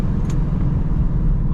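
A Ford Mustang GT drives on the road with a steady low engine and road rumble heard from inside the car, continuous and close.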